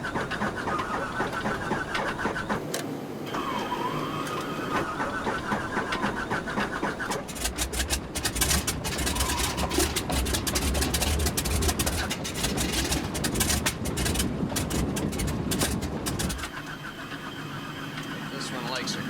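Aircraft engines starting in freezing cold: a dense, steady mechanical rumble that swells louder midway with hissing and clatter, then eases, with people talking over it throughout.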